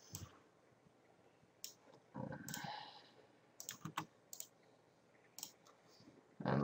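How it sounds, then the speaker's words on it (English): Computer keyboard keys pressed while editing video in Sony Vegas, a handful of sharp, close clicks scattered irregularly among faint handling and shuffling noises in a quiet room. "So press the letter S on the keyboard"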